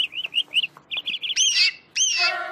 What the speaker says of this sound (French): j'y suis juste allée pour enregistrer le chant de son canari